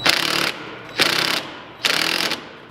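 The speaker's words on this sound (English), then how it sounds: "I'll just reach down in here at the impact and tighten things up here delicately." An impact driver tightens a hose clamp on a Jeep Cherokee XJ air filter in three close, loud rattling bursts of about half a second each, with short pauses between.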